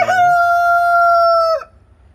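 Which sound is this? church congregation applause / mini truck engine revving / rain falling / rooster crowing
rooster crowing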